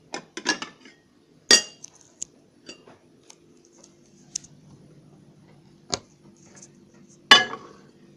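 A plate-covered egg dish is set into a microwave with a few sharp ceramic and glass clinks and knocks, scattered and close, separated by quiet moments.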